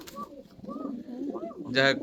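A fancy pigeon coos close by at a pigeon farm, a few soft throaty phrases followed by a louder burst at the end.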